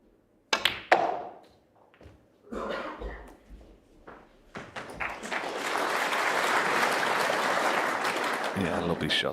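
Crowd at the Crucible snooker World Championship semi-final breaks into sustained applause after a shot, building from scattered taps and knocks into a steady, fairly close clapping wash with a commentator talking at the start.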